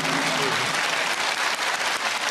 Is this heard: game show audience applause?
yes